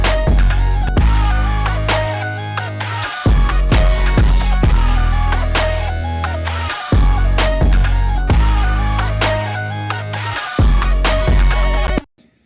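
Full hip-hop beat produced in Ableton, with an airy, time-stretched lead riding over heavy sustained bass and steady drums, playing continuously and loud before cutting out abruptly at the end.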